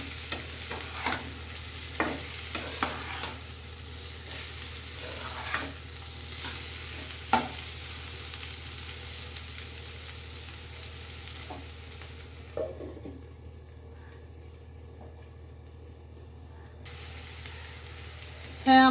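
Soft potato bhaji fries in a pan with a steady close sizzle, broken by repeated scraping strokes as it is stirred, with no talking.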